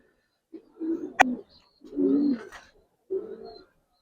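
Pigeons, a breeder's giribaz and coloring birds, give three low throaty coos spaced across a few seconds, fairly close, with a sharp click or tap between the first two and no speech.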